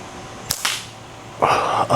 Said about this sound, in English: gonna go ahead and just take a few shots, see how I do with BBs.